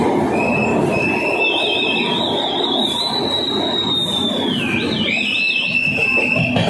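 A Vizag to Araku train runs through hill tunnels, its loud continuous rumble carrying sustained high wheel squeals that rise and waver. Close and steady throughout, with no talking.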